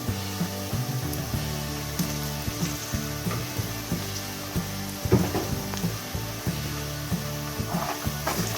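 Onions and ginger paste frying in oil for a meal maker curry, a constant sizzle with regular spoon taps and scrapes against the pan, one louder clatter midway, no speech.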